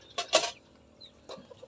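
Chickens cluck in a few short bursts at close range while being fed azolla, with a quiet gap between calls and no talking.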